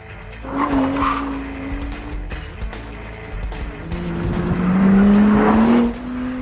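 Tires squeal as a four-wheel-drive Honda NSX is thrown hard into a corner, with a rising engine note and two long screeching slides over a constant road roar.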